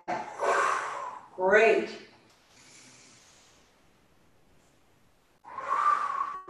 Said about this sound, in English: Here's your inhale and exhale.